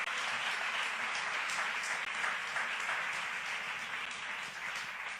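A church congregation breaks into sustained applause, dense steady clapping from many hands filling the room for several seconds at moderate distance.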